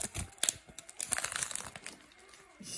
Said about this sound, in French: Et booster suivant. Déchirer comme ça.